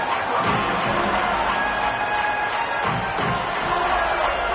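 A stadium crowd at a Texas vs Ohio State football game roars steadily after a punt return, making a dense, continuous wash of cheering at moderate loudness with no clear individual voices.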